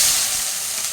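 Onions sautéing in hot oil with fennel seeds and bay leaf in a pan, giving a short, steady, close sizzling hiss with no voices.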